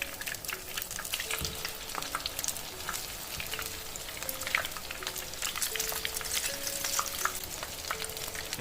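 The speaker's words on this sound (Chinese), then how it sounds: "鸡肉下去以后，每个面煎炸2分钟" Chicken pieces pan-fry in moderately hot oil, giving a steady, soft crackling sizzle with scattered pops that runs unbroken and alone the whole time.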